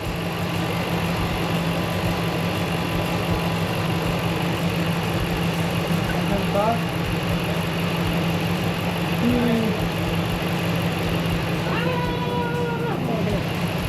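Rebuilt engine in a RAM ProMaster idling after its first start, a steady continuous drone with a low hum throughout, with brief chirps and squeaks near the end and no talk over it.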